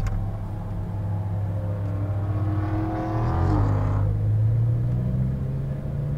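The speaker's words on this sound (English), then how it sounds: "we can go ahead and pull forward and then out and around to the left" A Lamborghini Huracan Performante idles and then pulls forward, its deep engine drone rising in pitch as it gains revs before settling, heard close and steady throughout.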